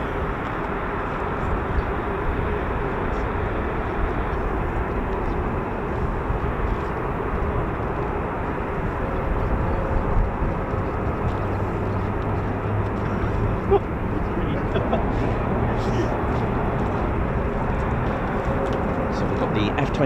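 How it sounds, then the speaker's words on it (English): F-22 Raptor fighter jets from Elmendorf Air Base, Alaska, taxiing at RAF Lakenheath, a steady broad jet-engine roar holding at a constant level for the whole stretch, with a low hum joining in partway through and a voice talking over it. "So we've got the F-22s hopefully taxiing down the catwalk"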